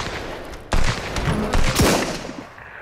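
Gunfire from a broken old bolt-action rifle in the survival video game Sunkenland: a loud sharp report with a dense noisy tail, then another burst of gunfire about a second later, amid game ambience.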